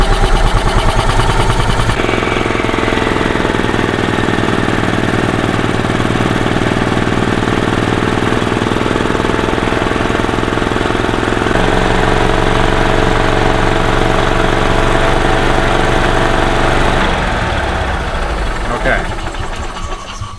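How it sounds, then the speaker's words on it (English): A 2001 Club Car DS gas golf cart engine, with a failed starter generator and voltage regulator, runs loud and close in a steady mechanical drone that shifts pitch as the RPM changes, then winds down near the end. "So let's get the engine running."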